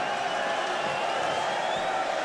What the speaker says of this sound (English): This great Irish crowd in attendance tonight at the Garden